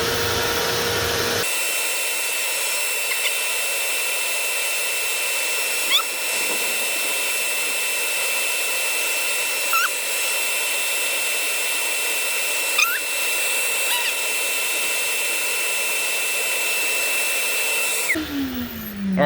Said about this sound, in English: I'm gonna turn the vacuum on.